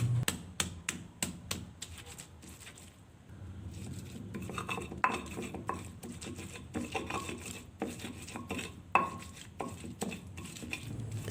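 Chili, turmeric and ginger ground in a stone mortar, quick rhythmic tapping and scraping knocks, steady and close with brief pauses.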